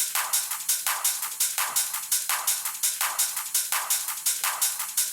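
A steady 909-style drum machine pattern of crisp, bright hi-hats and sharp claps repeating in a tight, even rhythm, with no voices.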